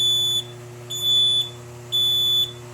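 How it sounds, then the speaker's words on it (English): A sleever machine sounds three evenly spaced high electronic beeps over a steady low machine hum, signalling it is ready to run. "After the third beep, it means it's ready to go."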